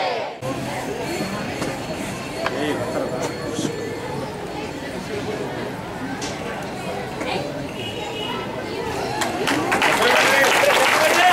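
Audience at a religious gathering honoring a Shivacharya Maharaj breaks into applause amid crowd chatter, the clapping building and growing louder toward the end.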